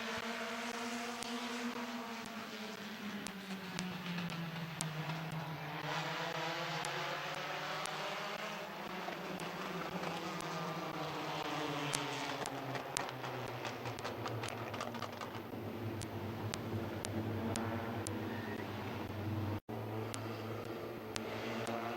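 A pack of race cars takes the green flag at Midvale Speedway, engines droning together with rising and falling pitch as they pass and accelerate, a continuous moderately distant roar lasting over twenty seconds.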